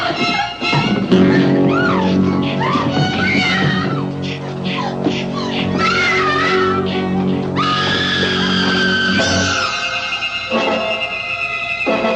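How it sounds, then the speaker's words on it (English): A woman screams in abject terror in a horror film, a long wavering high-pitched cry that rises and falls almost continuously, loud and close, with no talk. "a woman screaming in abject terror"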